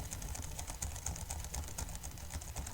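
Someone types on a computer keyboard in a rapid, irregular run of light key clicks, close and fairly quiet, with no voices over it.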